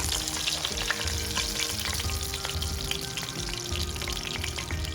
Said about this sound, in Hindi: और जो बाकी बचे हैं उनको हम फ्राई कर लेंगे।